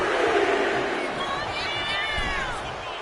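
Arena crowd roaring and cheering in the WWE 2K25 wrestling video game, a dense, loud wash of shouting voices that swells briefly then holds steady over three seconds.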